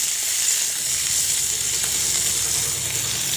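Green chillies and chopped tomatoes sizzling steadily in hot oil for a lentil-nugget curry, a dense, even crackle that holds at the same level throughout with no voices.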